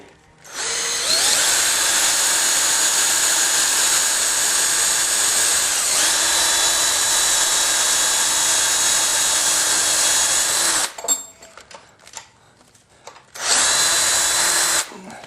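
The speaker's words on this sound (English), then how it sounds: "So what we're going to do is just drill the head off of this screw." A power drill whines loudly and steadily for about ten seconds while drilling the head off a screw on a four-stroke carburetor, stops briefly with some handling noise, then starts up again.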